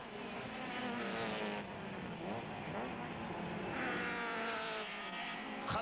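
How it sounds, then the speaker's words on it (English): Touring race cars, including a BMW, race at the Zwartkops circuit in a 1994 South African championship round, their engines droning steadily with overlapping, shifting tones at a moderate distance. "Sean van der Linde in the Castrol Futrum BMW chases after Mike Briggs."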